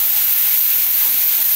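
Chili dropped into hot oil in a pan fizzes with a loud, steady, close sizzle and hiss that holds unbroken throughout, with no voices over it.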